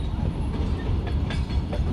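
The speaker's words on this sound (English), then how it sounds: "You can see this train has started moving." A train starts to move along railway tracks near Cansaulim village, giving a steady loud low rumble with faint scattered clicks and squeals throughout.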